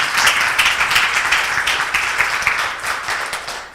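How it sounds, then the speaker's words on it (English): A room of attendees at a teaching celebration applauds the speakers, dense, close clapping that is loud at first and gradually tapers off over a few seconds. "Can we get a round of applause for all of our speakers?"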